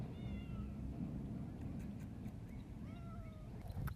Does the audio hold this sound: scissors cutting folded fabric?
no